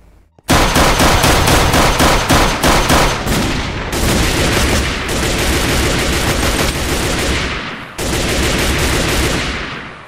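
Pistol gunfire in the video game Minecraft, loud rapid bursts of shots fired in quick succession, with brief gaps between volleys and no talking.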